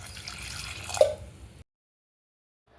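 Water poured into a pressure cooker while cooking jackfruit-seed masala, a short trickling, splashing pour with a drip-like peak, then abrupt silence.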